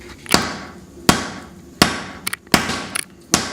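Cross peen hammer spreading hot steel on an anvil while a hatchet is forged: six sharp, ringing blows at an irregular, roughly two-per-second pace, each followed by a brief decay, close and loud with no talking.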